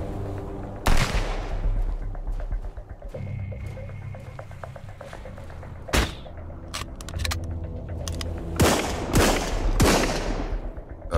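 Gunfire from NPC enemies in the video game Sunkenland, with repeated loud gunshots and bursts of rapid fire over a low rumbling background, the strongest cracks standing out close and sharp.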